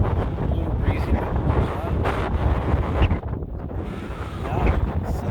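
Strong wind buffets the microphone on a breezy day on the road to Parker, a dense continuous low rumble with gusts rising and falling, while someone talks faintly underneath.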